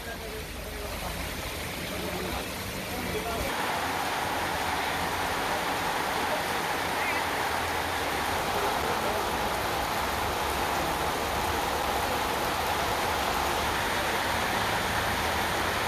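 Heavy rain pours onto roads in Erode, Tamil Nadu, with floodwater running over them: a steady, fairly faint wash of hiss that thickens after a few seconds and stays constant.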